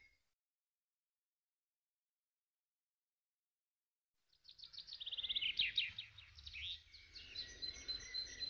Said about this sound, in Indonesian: Dari kejauhan, burung teriak sambil mendarat di dekat tapir.